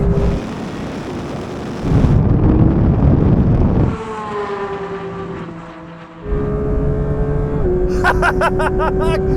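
Porsche GT3 cars in a drag race roar at full throttle, a loud engine note rising through the gears in several sweeps with rushing wind, near and powerful throughout.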